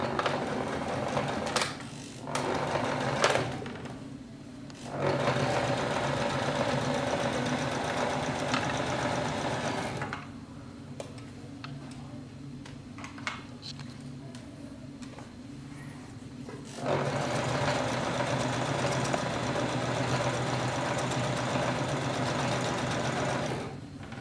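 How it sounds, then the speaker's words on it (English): A sewing machine stitches a folded bag in quiet, steady bursts, with a few short pauses and a longer break midway before running again. "I'm going to sew it just above the zigzag line."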